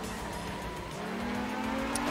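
A Toyota Celica Group 4 rally car in Art of Rally holds a steady, loud engine drone that rises slowly in pitch, with tire noise underneath and no talk.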